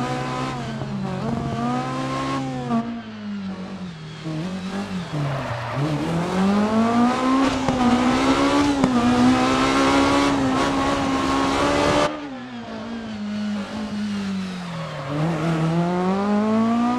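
A rally kit car is driven hard, its engine revving loud and close through rising and falling gears, with tire squeal and skidding through the corners and a brief gearshift break midway.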